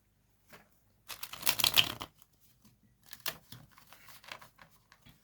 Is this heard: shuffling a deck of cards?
yes